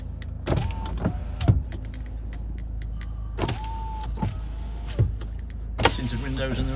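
Electric folding mirrors on a Ford Ranger 2.2 TDCi Limited whir in and out several times, each motor run starting and stopping with a soft clunk, close by against a quiet background.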